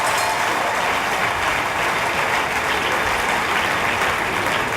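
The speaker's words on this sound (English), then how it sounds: "Clap for all the children of Bayelsa." Steady, dense applause from a large audience at a government employment-letter presentation ceremony for young Bayelsans, loud and continuous throughout with no talking over it.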